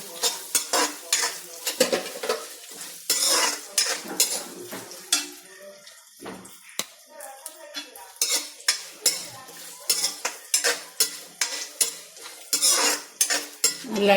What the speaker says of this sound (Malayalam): നമുക്ക് വെളിച്ചെണ്ണ ചൂടായി തേങ്ങാക്കൊത്ത് ഒരു മുറി തേങ്ങ എടുത്തിട്ടുണ്ട് അത് നമുക്ക് തേങ്ങാക്കൊത്തൊന്ന് വറുത്തെടുക്കാം